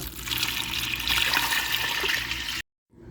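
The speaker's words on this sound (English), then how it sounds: "we're also going to go in with about 6 cups of water" About six cups of water poured into a pot, a continuous loud rushing splash for over two seconds before stopping abruptly, with a faint tail of sound after.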